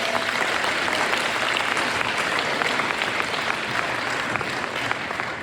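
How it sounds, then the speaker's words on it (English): Dense, sustained applause fills a hall at an FFA chapter banquet as a crowd claps steadily for award recipients, loud and even throughout without breaks. "Can we please have a round of applause for our chapter degree recipients?"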